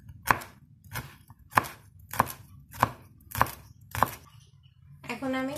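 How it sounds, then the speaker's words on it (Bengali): Garlic is chopped finely with a knife on a board for an aioli: seven crisp, evenly spaced thuds about half a second apart, close and clear, followed by a brief voice. "আমি প্রথমে গার্লিকগুলো ফাইনলি চপ করে নিব"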